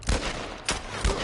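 Gunfire in The Last of Us Part 1, three sharp shots spaced across the moment, loud and close over steady background game noise, with no voices.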